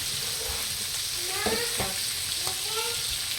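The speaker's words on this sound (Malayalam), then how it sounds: "വെളുത്തുള്ളി ഇട്ടിട്ട് നമ്മൾ മീൻ പൊരിക്കുമ്പോണ്ടല്ലോ" Fish fries with garlic in a pan, Kerala style, a loud, close, continuous sizzle and crackle throughout, with a voice speaking briefly over it.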